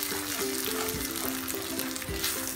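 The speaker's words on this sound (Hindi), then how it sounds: "अब हमको ये सूजी भूननी है," Semolina and green peas roasting in a hot pan over a high flame produce a steady sizzle, with periodic scraping stirs of a spoon and a faint tonal hum underneath.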